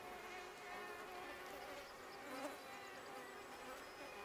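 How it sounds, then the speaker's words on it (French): A swarm of mosquitoes whines continuously in a forest during cool, rainy weather, a thin droning buzz with faint overlapping wingbeats and one slightly nearer pass. "Une météo fraîche et pluvieuse a fait exploser le nombre de maringouins"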